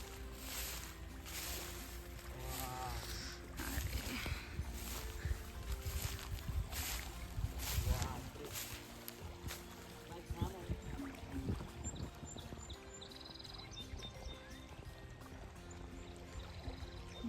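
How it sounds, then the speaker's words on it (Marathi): Water flows steadily in a stream on farmland in Canada, a continuous soft rushing wash that stays faint and even throughout, with small splashes and murmurs along the way. "हे पहा किती छान पाणी वाहत एकदम."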